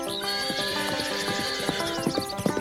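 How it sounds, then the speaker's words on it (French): A horse whinnies joyfully in a long bright neigh while its hooves clip-clop in a quick trot, close and clear with no talk. "Je trottais à sa rencontre avec un hennissement joyeux"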